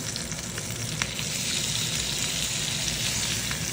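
Meat frying on a Luxor RI 340 Schott Ceran glass-ceramic hob gives a steady, close sizzle with faint crackles and a few brief spatters, and no voices.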